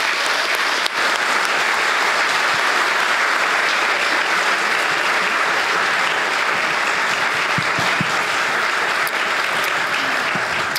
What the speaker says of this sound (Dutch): ik wil graag een extra groot applaus voor meneer Peter Plasman